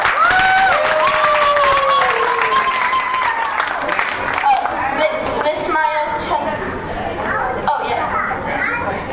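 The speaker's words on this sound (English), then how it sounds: "Can we have another round of applause for our amazing" An audience at an Ugadi community celebration applauds after a youth team's skit, loud sustained clapping mixed with children's shouts and chatter, with a voice speaking over the start.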